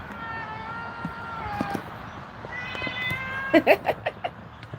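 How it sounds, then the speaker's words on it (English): A cat meows outdoors on a sunny day, a drawn-out tonal meow followed by a second, then a quick run of short, louder chirpy meows near the end, with faint background noise. "This cat."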